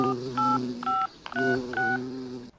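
A telephone number is dialed on a touch-tone phone, giving a run of distinct DTMF beeps, each a steady two-tone note separated by short gaps, heard over a low background hum.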